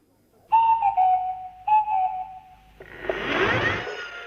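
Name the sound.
Swanee whistle sounds of the Clangers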